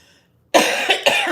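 A single person coughs close to the microphone, a sharp burst followed by two quicker hacking coughs after a brief silence.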